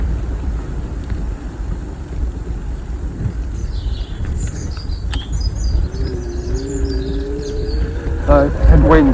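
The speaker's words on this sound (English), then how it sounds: "I'm getting headwinds everywhere." A strong headwind buffets a rider on a 250-watt kit e-bike, a low, gusty rumble that rises and falls throughout, with faint higher chirps and tones on top and a brief squeal near the end.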